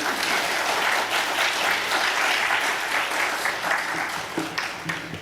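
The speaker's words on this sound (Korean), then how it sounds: "최갑순 선교사님 나오실 때 큰 박수로 환영해 주시기 바랍니다" A congregation at a Southern California Korean church's Wednesday service gives loud, sustained applause to welcome a missionary serving in Peru, a thick wash of clapping that fades slightly toward the end.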